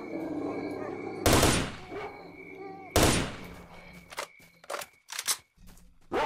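Gunfire rings out in S.T.A.L.K.E.R.: Shadow of Chernobyl as the player shoots attacking dogs: two loud, sharp bursts a couple of seconds apart, then several shorter shots trailing off over a background of game ambience.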